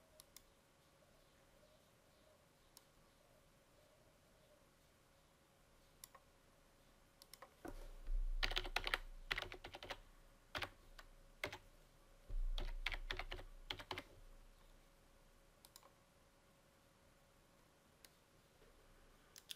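A username and password tapped out on a computer keyboard, quiet clicking keystrokes in two short bursts of rapid typing with a few scattered isolated clicks before and after, in a silent room.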